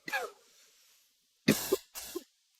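Three separate coughs from one person nearby, a lighter one first, then a pause and two stronger coughs in quick succession.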